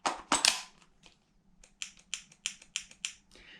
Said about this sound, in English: Stick in the magazine.